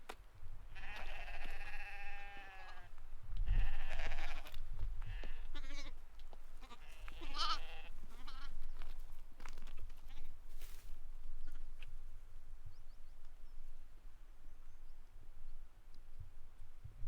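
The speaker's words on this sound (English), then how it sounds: "You could hear mother then, a young one with her" A ewe with a young lamb bleats in the wild hills of Devil's Kitchen, Snowdonia, Wales, giving a few wavering calls early on, fairly close, followed by quieter open-air stillness.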